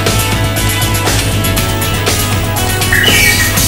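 Songbirds squawk and chirp amid a dense, noisy background at a bird breeding facility, with a sharper high call rising near the end.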